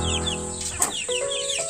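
A mother hen clucks among her chicks, low clucks mixed with high thin peeping, close and clear, with a quick flutter of wings in the middle.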